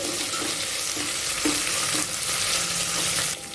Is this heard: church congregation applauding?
no